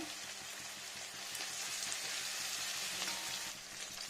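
Crushed garlic and green chilli frying in oil for a fish curry, a faint, even crackling sizzle that rises slightly midway, steady and close with no talk over it.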